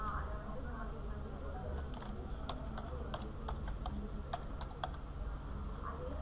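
Keys on a computer keyboard are tapped during registration on a computer, a light irregular run of clicks under a constant hum with a faint voice.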